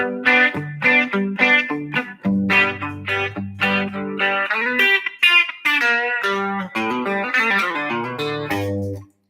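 An electric guitar plays a choppy chord rhythm through effects, bright and slightly distorted with a shimmering chorus, steady strums for several seconds.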